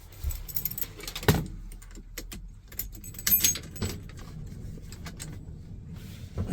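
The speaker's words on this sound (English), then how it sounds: "let me go ahead and get the keys out" Keys jangle and clink in short bursts as they are pulled out, close and fairly loud, with a quiet background hum between the rattles.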